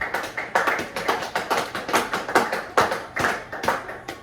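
A church congregation claps in unison after a Bible reading, a brisk steady rhythm of sharp, close hand claps lasting several seconds with no talking.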